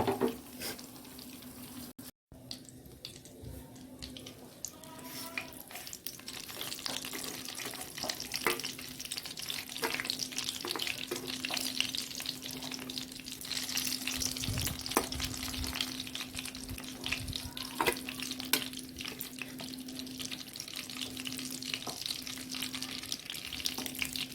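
Eggs fry in a pan with a soft, steady sizzle and occasional crackles and scraping stirs, fairly quiet throughout over a faint background hum.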